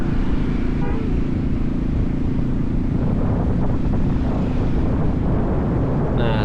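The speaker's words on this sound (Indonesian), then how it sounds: "Memang anginnya ini lumayan kencang di sini," Strong sea wind roars and buffets the microphone on a coastal road ride near Pelabuhan Ratu, a steady, loud rumble that covers the whole stretch with the vehicle's drone beneath it.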